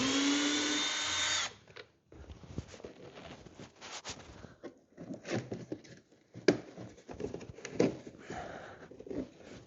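A cordless power drill backs out the floor mat screws on a Club Car Precedent golf cart, giving one short, loud whir followed by light clattering and handling noises.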